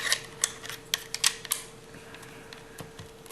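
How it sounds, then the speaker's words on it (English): Small screws driven into the bottom plate of a CYMA CM030 airsoft electric pistol, sharp close clicks and ticks in an irregular cluster over the first second and a half, then sparse faint taps over a steady low hum. "first thing I'm going to do is screw the bottom plate."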